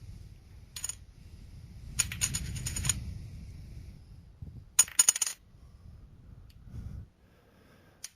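A coin flipped repeatedly, producing several bright metallic clinks in separate bursts over soft low rumbling handling noise, close up with no talking.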